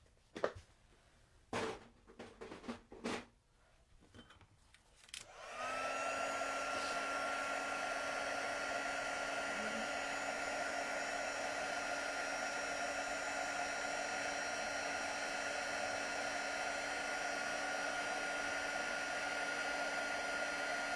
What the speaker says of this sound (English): then we can set that with a heat tool